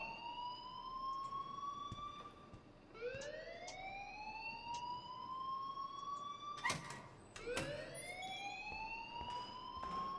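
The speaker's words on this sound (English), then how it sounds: "please turn off that alarm since that's your job" In the Life Is Strange video game, an alarm wails with rising siren sweeps that repeat several times, loud and steady over a faint background.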